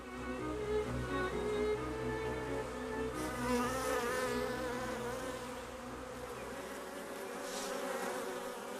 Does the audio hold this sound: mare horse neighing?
no